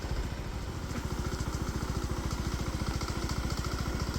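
A moped engine cruising through Da Nang, Vietnam, with a steady rapid low putter and constant road and wind noise, loud and close throughout.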